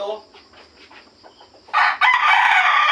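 An early bird gamefowl rooster gives soft clucks, then bursts into a loud, close crow that carries to the end.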